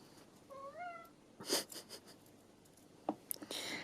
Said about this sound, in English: cat's meowing at me now.